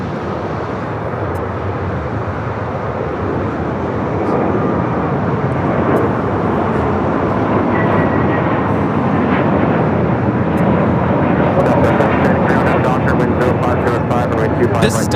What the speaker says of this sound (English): This is Delta Airlines 749 taking off to Tampa, Florida on the A321neo